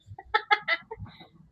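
A chicken sound effect: a quick burst of bright clucks, three strong ones followed by softer trailing notes, close and clear over a low murmur.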